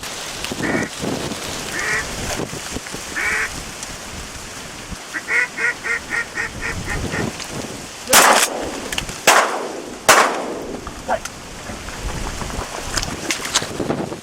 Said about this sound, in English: there's so many birds out here